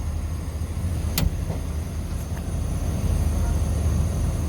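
A steady mechanical hiss and low hum fill a car interior from a noisy air-conditioning expansion valve, with a brief sharp click partway through and no talking.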